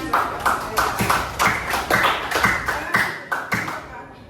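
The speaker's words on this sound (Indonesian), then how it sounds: "Tepuk tangan" A group at a study-skills training session claps in unison, crisp strikes landing in a regular beat about twice a second before fading out at the end.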